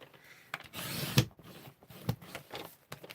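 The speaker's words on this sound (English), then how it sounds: "The trimmer went through 3 layers." Paper trimmer blade slicing through three layers of cardstock, a few short scraping rubs and soft clicks close by, with quiet gaps between strokes.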